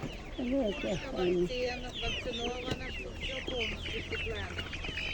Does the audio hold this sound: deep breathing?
no